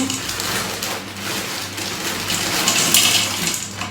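Frozen vegetable medley of peas, carrot and broccoli tipped into a pan, a steady close rattling, pattering clatter lasting several seconds that swells slightly toward the end.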